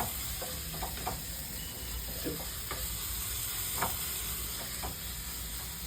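An egg-based Iranian omelette fries in a small kadai with a steady, close sizzling hiss and a few light clinks of stirring.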